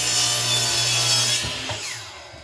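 Hand saw cutting through a wooden piece in a steady, close rasping stroke that tapers off near the end, with no talk.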